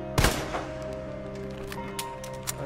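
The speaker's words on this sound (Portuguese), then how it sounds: "Deixa eu dar mais um tiro." Single sharp gunshot in the survival horror game Resident Evil 2 Remake, a loud close crack followed by a lingering tail and faint background game ambience.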